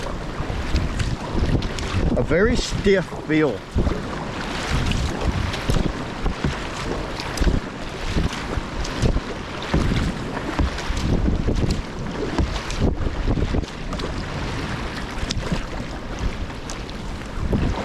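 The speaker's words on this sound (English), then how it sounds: "Do some quick, kind of like flat water paddling here." A Prijon Beast PR-X kayak is paddled in quick strokes on flat water, giving rhythmic splashes and swishes under heavy gusting wind noise on the microphone, while someone speaks briefly near the start.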